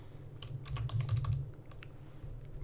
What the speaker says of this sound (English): Here, I'll just type it out.